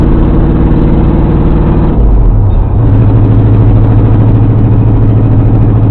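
A 1980 Ford F100 hot rod doing a burnout: a loud, steady engine roar with a low rumbling drone, dipping briefly near the middle before climbing back to a sustained high-revving whir.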